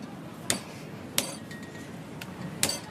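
Beef steak being bashed with a hammer to tenderise it, several sharp separate thuds with a metallic clink, spaced irregularly about a second apart in a quiet kitchen.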